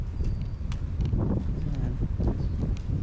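Gusty wind buffeting the microphone in loud, low rumbles at a town plaza near a church in Anda, Bohol, Philippines, with faint rustling and scattered light knocks.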